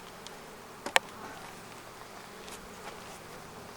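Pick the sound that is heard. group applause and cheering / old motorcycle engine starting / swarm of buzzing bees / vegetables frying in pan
swarm of buzzing bees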